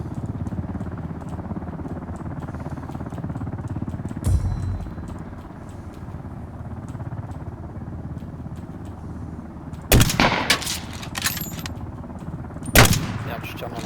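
Gunfire in the online shooter Ring of Elysium, a few sharp loud shots and short bursts standing out against steady game ambience, with a player talking over it.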